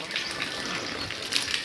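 Water being splashed, heard as a continuous rushing, gushing wash of water with a few brighter splashy bursts near the end, moderately loud and close.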